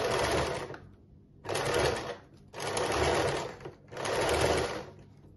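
A sewing machine stitches around a coiled cord spiral, running close and loud in four bursts separated by short pauses, with no voices.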